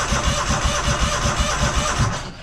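A junkyard Kohler engine, choked, cranks over with a steady rapid chugging rhythm, loud and close, continuous throughout and easing off at the very end.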